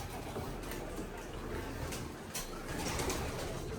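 Racing pigeons coo softly at the trapdoor of a loft in Angeles, Pampanga, a low throaty murmur set against a steady rushing background, with faint bursts of wing noise.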